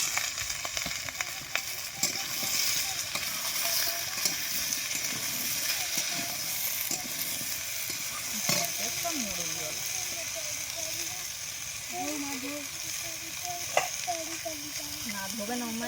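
Potato and Malabar spinach fry with small fresh river crabs in a pan, giving a steady close sizzle with scraping stirs throughout, while voices talk briefly near the end.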